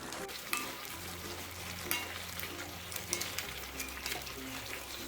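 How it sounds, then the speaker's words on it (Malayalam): Chicken curry with roasted coconut being stirred with a spoon in a pan, soft scraping and gentle sizzling over a steady low hum, with no voices. "ഇത് നന്നായിട്ടൊന്ന് സ്പൂൺ കൊണ്ട് ഇടയ്ക്ക് ഇതുപോലെ ഒന്ന് ഇളക്കി കൊടുക്കണം."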